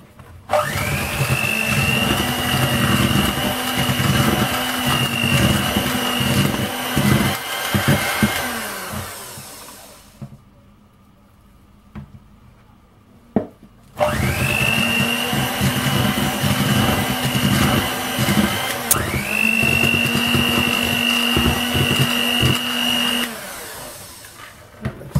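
An electric mixer beats apple cake batter in two long, loud runs of steady motor whine that stop for a few seconds in between, with no talking.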